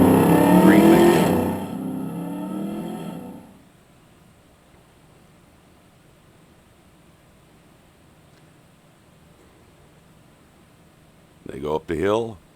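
An off-road buggy and a chrome truck race up a hill in a Goat Hill event, their loud engine roar passing and fading into distant quiet before a voice speaks at the end.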